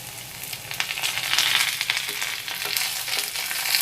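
Potatoes and cauliflower fry in a pan for a mixed vegetable dish, giving a steady close sizzle with crackling bursts and scraping stirs throughout, no talking.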